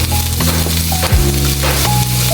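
Onion and salted potato fry lightly in a pan, giving a steady close sizzle over the whole stretch. Low steady tones and a few brief tonal notes sit beneath the frying, with no talking.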